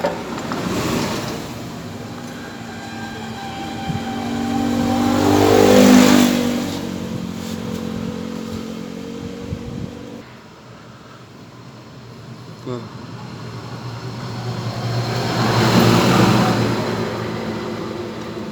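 Honda TMX 155 motorcycle engine running with a noisy, worn valve train, a steady mid-pitched hum that swells louder twice, with speech over it.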